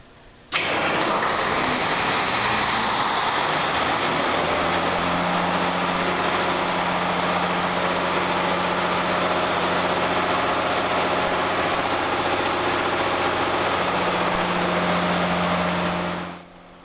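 Very loud generator powering a fire pumper, a steady droning engine roar with a strong low hum that starts abruptly and runs continuously close by, with no talking.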